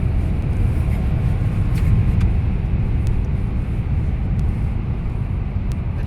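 A Mercedes E350d 4Matic AMG diesel engine under way, heard from inside the cabin as a steady, muffled low rumble mixed with road and tyre noise, even in level throughout, with no talk.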